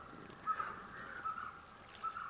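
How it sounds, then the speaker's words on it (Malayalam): Packet milk is poured into watermelon juice, a soft, thin trickling stream running steadily for a couple of seconds with faint splashes, quiet and close. "കുറച്ച് പാലൊഴിച്ച് കൊടുക്കാം."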